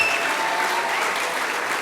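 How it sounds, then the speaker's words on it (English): Steady applause from the crowd at an elementary school graduation honors the Academic Excellence Award winners, a dense, even wash of clapping held at full strength throughout with no voices on top. "we're going to give our Academic Excellence Award winners a big round of applause"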